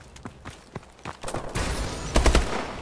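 Rapid gunfire from the Call of Duty Advanced Warfare video game, scattered single shots early on, then a dense burst of automatic fire with a few loud close reports near the end.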